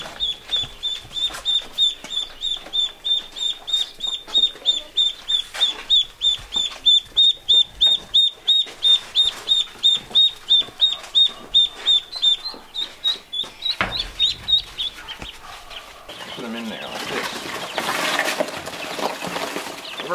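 Baby ducks and chicks peeping continuously, a rapid regular series of high, close chirps that thins out toward the end as other handling noise takes over.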